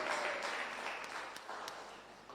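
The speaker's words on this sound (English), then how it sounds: "A round of applause, Thomas." A round of applause for Thomas at a rural community development gathering at an Anglican pastoral setting, soft, fairly distant clapping that fades gently over a couple of seconds.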